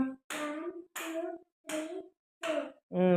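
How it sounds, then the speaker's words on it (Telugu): A child claps hands four times in a steady, evenly spaced rhythm during a classroom number game, each clap sharp and close, followed by a brief voice. "4 క్లాప్స్ కొట్టమ్మా."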